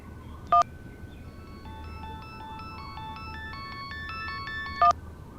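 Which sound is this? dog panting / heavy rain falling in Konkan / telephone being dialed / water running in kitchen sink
telephone being dialed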